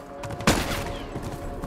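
A sharp burst of gunfire at a horse in The Last of Us Part II, a single loud crack followed by a fading rumble and game ambience.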